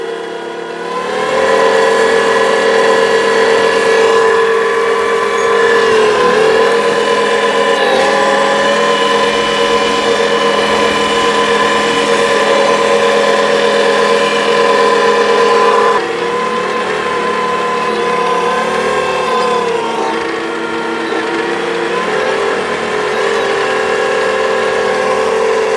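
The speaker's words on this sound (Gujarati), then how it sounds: "આપણે 20 HP ટ્રેક્ટરની દાંતી મારી છે" A 20 HP electric tractor pulls a cultivator through a field among standing sorghum stubble, giving off a loud, steady electric whine that dips briefly in pitch partway through and then carries on.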